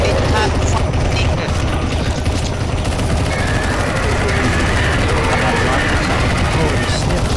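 Dense, continuous gunfire from CS:GO on the zombie escape map ze_taboo_carnation, with rapid overlapping shots and bursts filling the whole stretch at a loud level, backed by busy game noise.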